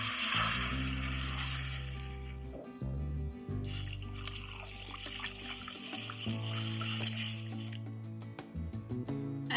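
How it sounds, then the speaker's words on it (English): About two liters of water pour into a pot of pho broth holding roasted vegetables, onion, garlic, ginger and spices, a steady close splashing stream lasting several seconds, heard alone. "I'm going to add in about 2 liters of water to it now."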